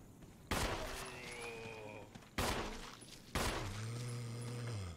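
Gunfire in a Resident Evil video game: three loud, sudden bursts of shots, each with a long ringing, metallic decay, in a close, reverberant space.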